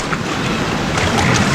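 A boat moving across water, with a steady broadband wash of water and hull noise that stays constant and fairly loud for the whole short stretch.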